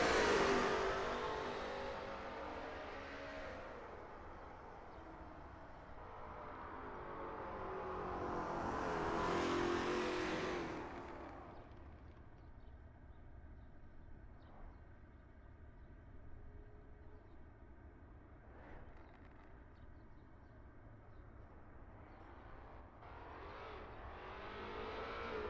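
Lola T70 MkII Spyder race cars warm up at Brands Hatch GP. An engine note swells loudly to a roaring pass near the middle, then settles into a steadier, more distant mechanical drone with faint rises, and no voices.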